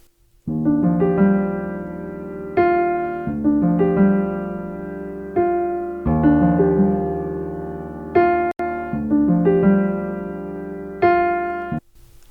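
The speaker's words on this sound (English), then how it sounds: "the preset I used is Steinway D Prelude, and it sounds like this" Rich Steinway D grand piano chords from a software preset ring out one after another in a steady progression, each struck firmly and left to sustain, with about six chord changes and no voices.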